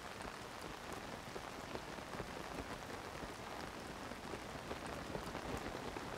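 Steady rain falling across an outdoor landscape in the video game Zelda Tears of the Kingdom, a dense continuous patter of drops with no talk over it.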